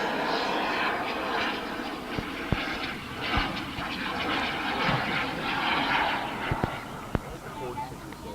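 A radio-control model airplane engine drones steadily overhead at a fun-fly event. The sound is continuous and fairly loud, with a few sharp clicks, and people talk underneath it.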